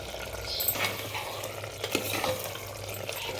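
Potato and brinjal curry is stirred in a pan over a soft background sizzle, with a few light scrapes and utensil clinks against the metal, close and quiet, without speech.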